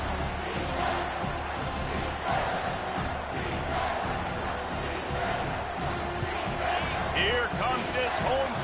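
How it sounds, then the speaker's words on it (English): Home crowd noise in the NCAA 25 college football video game, a steady dense roar of cheering at a third-down stop, continuous and fairly loud, with a commentator talking over it. "Here comes this home crowd as the defense tries to get off the field on third down."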